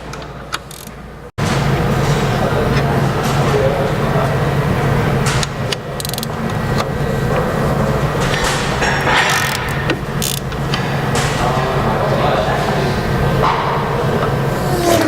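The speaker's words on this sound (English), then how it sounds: "With the wheel off, we can remove the slide bolts from the caliper." With the wheel off a car, a ratchet loosens the brake caliper slide bolts, making a loud, continuous clicking and rattling mechanical noise right up close after a brief quiet start.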